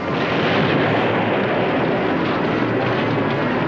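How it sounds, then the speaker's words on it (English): A loud special effects explosion staged for film or television drama, heard as a dense, sustained roaring blast of rumble and debris noise that holds steady for nearly four seconds. "No modern-day movie or television drama would be complete without at least one good explosion."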